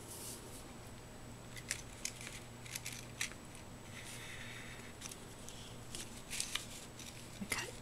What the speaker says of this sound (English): I cut the raffia and the twine